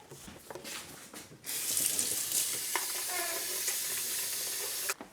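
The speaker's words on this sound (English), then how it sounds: "So we're gonna wash this really quickly" Water runs steadily from a kitchen tap as a pot is washed beneath it, a loud continuous rush with brief clatters, starting after a quieter moment and cutting off near the end.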